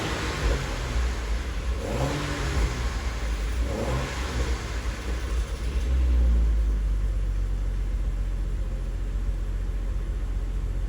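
A 2011 BMW 135i with the N55 engine and six-speed gearbox, fresh spark plugs and coils, running steadily up close with a deep, continuous rumble and a slight swell partway through, no voices.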